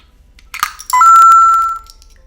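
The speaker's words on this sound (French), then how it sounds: "vous avez entendu les divers bruits que cette petite tirelire peut faire" A small electronic piggy bank gives a short clatter, then a sustained bright beeping tone that rings for about a second and fades.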